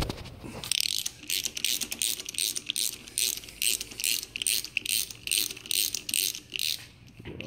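A ratchet turning a 13/16 spark plug socket to remove spark plugs from an engine clicks in rapid, steady bursts of back-and-forth strokes, close and clear with no talking.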